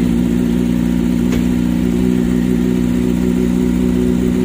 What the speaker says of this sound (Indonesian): Menggunakan knalpot LF10 karbon, 10 karbon, mantap.